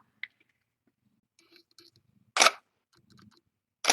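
A camera shutter clicks twice in a quiet, dim room with newborn kittens, two crisp, close snaps a second and a half apart, with faint small rustles and soft movements between them.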